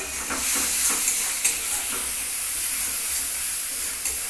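Spiced egg curry (dimer kosha) sizzles steadily in a pan while a spoon scrapes and stirs it, producing close crackling and hiss with intermittent stirring knocks and no voices.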